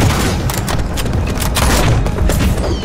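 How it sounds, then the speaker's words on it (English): Fireball attacks in the Nosgoth video game, a dense run of loud booming blasts and crackling impacts, continuous and close. "Fireball!"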